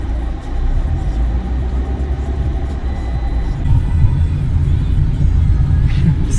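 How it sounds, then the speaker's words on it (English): A Fiat Punto driving on a motorway, a loud, continuous in-car engine and road rumble that swells slightly toward the end, with a brief faint higher whine near the close. "Just casually going on the motorway."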